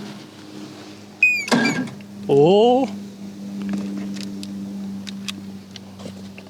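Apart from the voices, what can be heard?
boat engine cranking over on key start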